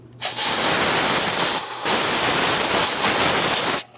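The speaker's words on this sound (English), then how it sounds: "For this, I'm just going to use some compressed air." Compressed air blasts in two loud, steady hissing bursts with a short gap between them, close by, blowing debris off the transmission of a 2008-2016 Chrysler Town & Country 3.8L V6.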